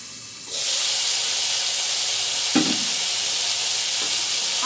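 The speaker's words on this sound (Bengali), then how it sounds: "আমি আরেক সাইডে উল্টিয়ে দিয়েছিলাম, 2 সাইডে উল্টি পাল্টিয়ে ভেজে নিতে হবে।" Tomato halves frying in a pan give a loud, steady sizzling hiss that rises abruptly near the start, with a brief clatter partway through as they are turned.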